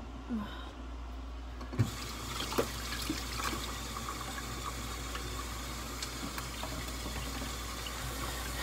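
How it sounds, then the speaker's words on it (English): A tap runs for hand washing: an even rush of running water continues throughout, with a few faint knocks and clicks, fairly quiet and close. "Okay, guys, I need to wash my hands."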